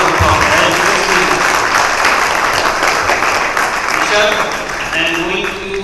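Loud, dense applause from an audience at a business meet in Dubai for the event organisers, sustained clapping that fades slightly toward the end, with a voice speaking over it.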